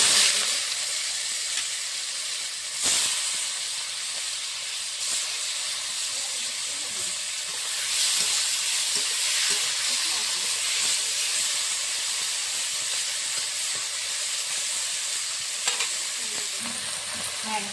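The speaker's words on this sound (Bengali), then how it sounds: "মাছগুলো আস্তে আস্তে জালে লাল লাল করে ভেজে নিচ্ছি" Fish frying in hot mustard oil in a karahi: a constant hissing sizzle with faint crackles and a few sharp spatters, near and steady throughout, no voices.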